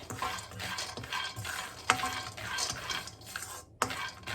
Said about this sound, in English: So here I've got peanut. We're going to roast the peanut.